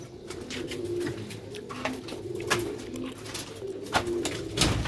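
A pair of Sialkoti pigeons coo close by in soft repeated low calls, with a few sharp rustles or taps between them.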